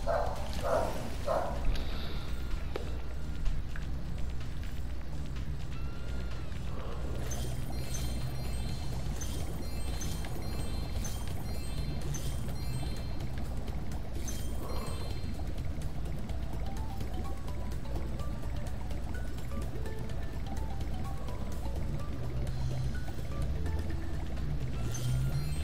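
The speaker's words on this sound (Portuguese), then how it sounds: "Tem água." Continuous water flowing in the Spyro: Year of the Dragon video game, a steady rushing wash that holds throughout with occasional game effects over it.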